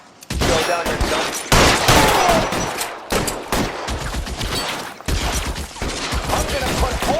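Gunfire in the video game L.A. Noire: loud, close bursts of rapid shots in several volleys separated by brief pauses, with sharp cracks stacking into dense fusillades.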